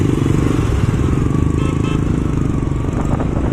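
A motorcycle with poorly working, long-unserviced brakes rides along a road near Irugur, its engine giving a loud, steady, close drone throughout with no talking.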